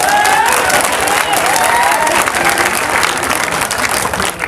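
Loud, dense applause from a large crowd at a political rally, steady clapping with some cheering mixed in throughout, close and continuous without a break.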